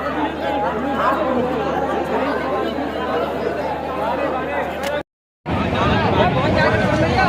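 Dense crowd chatter of passengers packed on a busy Indian railway platform at Tundla Junction while boarding an express train toward Prayagraj for the Mahakumbh, steady babble throughout with a brief dropout near the end.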